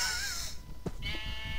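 Sheep bleat in the video game Minecraft: a wavering bleat opens the clip, with a short second bleat after a soft thump, all fairly close over quiet background.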